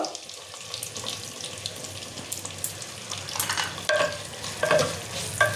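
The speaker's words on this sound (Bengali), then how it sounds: "পেঁয়াজটা একটু ভাজা ভাজা করে নেব।" Chopped onions fry in butter and oil for Bengali handi chicken, stirred in the pan. A continuous sizzle sits beneath intermittent scraping stir strokes, which grow louder and closer toward the end.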